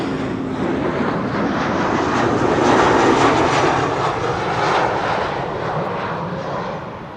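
An Embraer jet in DTM Deutsche Tourwagen Meisterschaft livery lands at Amsterdam Schiphol, a loud, close engine roar rising to a peak mid-pass and then easing off.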